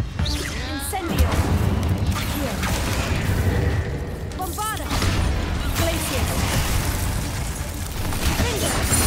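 Fire spells, Incendio among them, go off in a Hogwarts Legacy battle in the catacombs. Bursts, crashes and whooshing blasts pile up over a continuous game score while a player's voice talks throughout.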